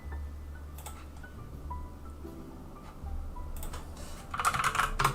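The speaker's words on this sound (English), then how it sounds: "you guys gotta hear, I got a new keyboard and oh my god, it is so satisfying to use" A newly bought computer keyboard being typed on at a home PC setup, sparse soft keystrokes at first, building into a quicker, louder burst of clicks near the end, over a low steady room hum.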